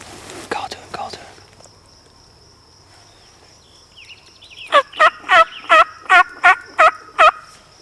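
Merriam's wild turkeys gobbling on a hunt in Eastern Washington, a burst of rapid gobbles nearby followed by a rhythmic series of loud calls, with soft whispering voices at the start.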